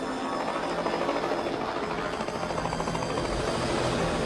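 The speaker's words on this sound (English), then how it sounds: "The others in the chopper have reached the Norwegian camp." Helicopter in flight in the film The Thing, arriving at a Norwegian camp in Antarctica: a dense, steady rotor and engine roar that fills the whole clip at constant, loud volume.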